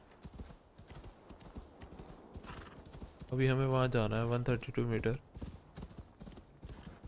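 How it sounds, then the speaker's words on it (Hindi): Horse hooves clip-clop steadily in Assassin's Creed Valhalla while a horse whinnies loudly midway, with someone talking over the rhythmic gait throughout. "चल मेरे घोड़े"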